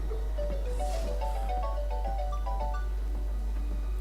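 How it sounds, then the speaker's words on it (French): A phone ringtone plays a bright looping melodic tune over a steady low hum and background game audio during a Battle Chasers: Nightwar play session, with no one talking. "C'est l'heure où les pubs appellent au téléphone"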